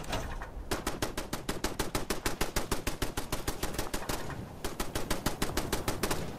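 Rapid automatic gunfire in the video game Fallout 76, two long bursts of evenly spaced sharp shots separated by a short pause, loud and close with no talking.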